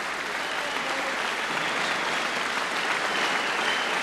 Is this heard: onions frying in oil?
no